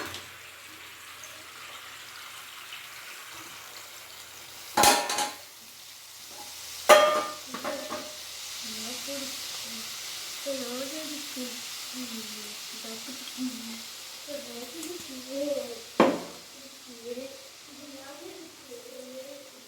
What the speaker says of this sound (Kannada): ಇದೇ ಪ್ಯಾನ್ಗೆ ಹಾಕೋಬಿಡೋಣ ಈಗ ನಾವು ಪುಡಿ ಮಾಡಿ ಎತ್ತಿಟ್ಕೊಂಡಿರೋ ಅಂಥ ಮಿಶ್ರಣನ ಇದರಲ್ಲಿ ಹಾಕಿ ಮಿಕ್ಸ್ ಮಾಡ್ಕೊಂಬಿಡೋಣ